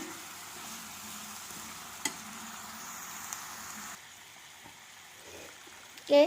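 Brinjal (eggplant) frying in masala in a pan while being stirred, heard as a low, continuous sizzle with occasional light scrapes. The sizzle drops quieter partway through, and a brief louder clatter comes at the end.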